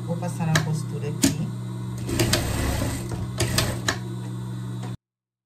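A sewing machine stitching a hood onto a pet bear pajama, fast steady rattling of the needle in a continuous run with a few sharp clicks, close and moderately loud, ending abruptly.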